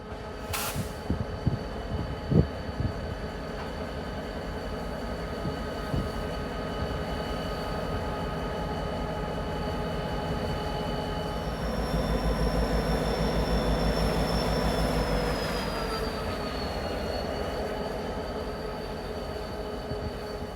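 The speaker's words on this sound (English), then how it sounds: "a pair of 60-year-old EMD GP35 locomotives" A pair of 60-year-old EMD GP35 diesel locomotives on the Great Lakes Central Railroad rumble steadily at a distance. A faint high wheel squeal comes in and swells toward the middle, and the low engine drone stays continuous.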